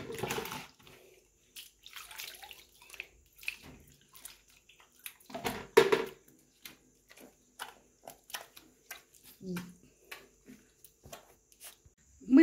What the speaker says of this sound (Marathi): थोडंसं पाण्यामध्ये डेटॉल टाकून थोडंसं त्याला पाणी आंघोळ घालते